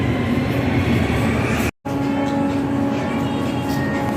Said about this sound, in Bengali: আন্ডারগ্রাউন্ড রেলওয়েতে যেতেছি এখন